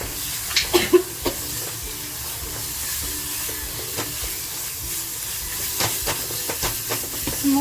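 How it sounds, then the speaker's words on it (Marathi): Chopped tomato tossed into a hot pan while making prawn-stuffed pomfret gives a steady hissing sizzle throughout, with a few sharp crackles and spatula knocks, no talking. "टॅमॅटो कापून घेतलाय तो टॅमॅटो टाकते"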